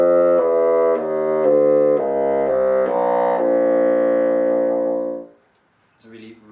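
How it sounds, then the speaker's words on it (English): Bassoon played in its low register, a sequence of rich, warm sustained notes stepping along and ending in one long held tone, followed by a brief quiet moment and a short sound. "So in the low register it sounds something like this."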